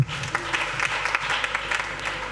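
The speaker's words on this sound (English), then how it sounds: "Clap for the president." Applause for the president at a school's 75th anniversary celebration, a brisk, even roll of many hands clapping, near and loud throughout the short stretch with no voices on top.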